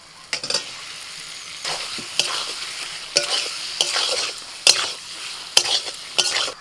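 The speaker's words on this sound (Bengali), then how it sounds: "ভাজা আলু দিয়ে দিচ্ছি।" Fried potatoes stirred in a spice paste in a pan, a continuous soft sizzle broken by repeated sharp scraping strokes of a spatula every second or so, up close with no talk.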